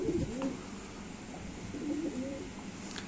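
A female Madrasi Giribaj highflyer pigeon coos softly twice, low throaty calls close by, over a quiet background hiss.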